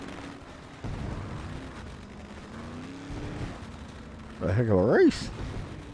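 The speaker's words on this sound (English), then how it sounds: "As the fireworks go off." Fireworks after a street stock race at Eldora: dull booms and crackling bursts at a distance, mixed with engine noise and a voice talking over them.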